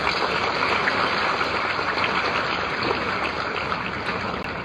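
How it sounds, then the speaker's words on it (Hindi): Loud, dense audience applause fills a defence exhibition inauguration hall attended by the Governor of Maharashtra, a steady wash of clapping that holds evenly throughout with no voices over it. "एक बार सुनील राणे जी के जोरदार तालियां हो जाए दोस्तों।"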